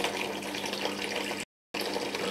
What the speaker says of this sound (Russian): Теперь мы выливаем эту адскую смесь в колбу с обычной водопроводной водой